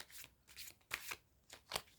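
Tarot cards are shuffled by hand in quick, soft riffling bursts, about six papery flutters and slaps over two seconds, close and quiet, with no talking.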